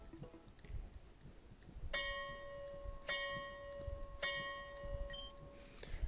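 In the video game Pokemon Rejuvenation, a funeral bell tolls for the dead in four slow, evenly spaced ringing strikes, each fading with a lingering metallic resonance over quiet ambient background.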